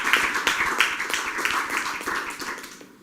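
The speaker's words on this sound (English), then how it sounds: "he deserves a round of applause, ladies and gentlemen" Audience applause fills an indoor event hall, a dense patter of clapping that holds steady and then fades out toward the end.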